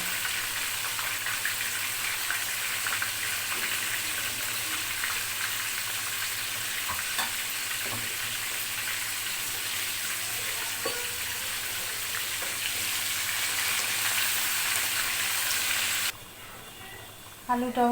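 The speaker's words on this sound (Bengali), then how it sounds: "আলুটা এখন আমি আর তেলের মিশ্রণে কিছুটা লাল লাল করে ভেজে নেব" Potato pieces for tehari fry in a mix of ghee and oil until reddish-brown, giving a steady, close, broad sizzle with occasional light utensil clinks, which drops away abruptly near the end.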